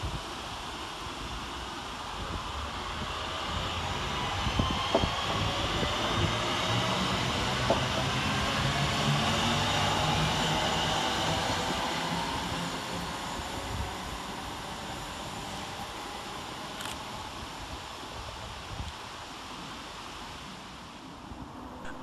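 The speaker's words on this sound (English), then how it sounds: "Next out to depart is 323237, working the 1440 Northern service from Crewe to Manchester Piccadilly via Manchester Airport" Northern class 323 electric multiple unit 323237 departing Wilmslow station on a Crewe to Manchester Piccadilly service, a broad rumbling wash that swells and then slowly fades as the train pulls away, with no talk.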